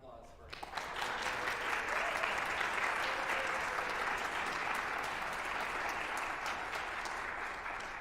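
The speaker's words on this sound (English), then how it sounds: "Give them a big round of applause" Sustained audience applause at a Western New York Chamber Orchestra gala, a dense wash of many hands clapping that swells in after a brief quiet start and holds steady and full throughout.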